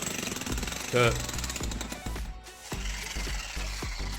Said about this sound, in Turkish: Galiba bizim kapıdan geliyor bir inşaat var